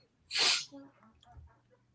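A single loud, close sneeze bursts out sharply, followed by quiet murmured speech and soft background room sound.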